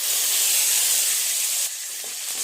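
Ginger paste sizzling in hot oil with cumin, a steady bright hiss and crackle from the pan that eases slightly partway through, with no talking.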